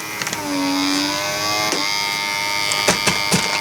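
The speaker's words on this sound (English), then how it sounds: "We'll vacuum this out again." A small vacuum cleaner sucks debris out of a 3D printer, a steady close whine with a rising motor tone and brief knocks and rattles as the nozzle bumps the machine.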